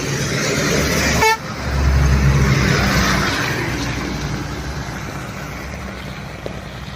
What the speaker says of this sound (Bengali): দেখুন বন্ধুরা, কিভাবে ট্রাকটি ওভারটেক করলো।